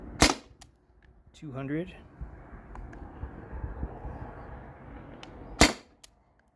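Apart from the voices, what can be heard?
modified T4E TR68 marker firing steel ball shots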